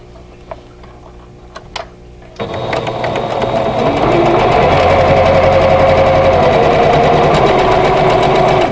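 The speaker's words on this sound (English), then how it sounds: "now we're going to sew the right side on, and I'm going to go from the center to the lower right hand corner" A sewing machine stitches a quilt block seam from the center toward the lower right corner. A few light ticks come first, then the motor starts abruptly and runs in a loud, steady, close whir to the end.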